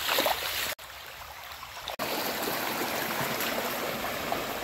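A hill stream in the Sitakunda forest rushes over rocks in a continuous broadband wash of water, close and steady, with two very short dropouts in the first two seconds.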